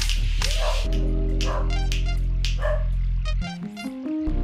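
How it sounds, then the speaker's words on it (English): Several dogs bark in a burst of sharp yips and bow-wows, close and loud over a steady low hum, with a whimpering, rising note near the end. "Goodness, these dogs."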